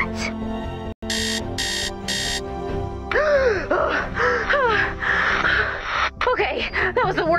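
An alarm goes off in a Fortnite Save the World game: three loud, evenly spaced electronic beep bursts open the clip, followed by game music, swooping effects and voices talking.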